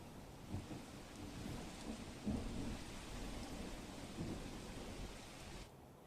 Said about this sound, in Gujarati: હાલ પણ વરસાદ છે તે ક્યાંક વરસી રહ્યો છે